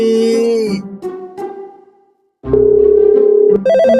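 A telephone rings with a loud electronic melodic ringtone, tonal bursts broken by a short silence before the ringing resumes steadily and close.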